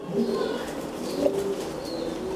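Soft, low pigeon cooing in a quiet room at a fancy pigeon farm, a few murmuring coos close by with faint background hum.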